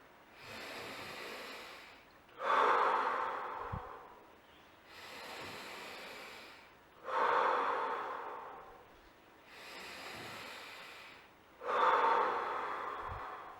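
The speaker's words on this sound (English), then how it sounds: "I like to breathe in and out 3 times to clear the lungs" Three deep breaths, each a slow drawn inhale followed by a stronger rushing exhale, repeat in an even rhythm close to the microphone with no talking.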